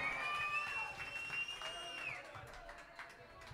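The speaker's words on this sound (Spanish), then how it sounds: "Fuerte aplauso para Juanjo." A club crowd at a karaoke night claps and cheers for a singer, a distant, muffled wash of applause and voices with a sustained tone gliding downward over it.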